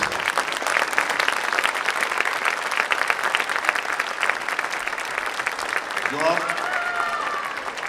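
A school audience applauds steadily with dense, continuous clapping throughout, joined near the end by a few rising cheers and whoops close by.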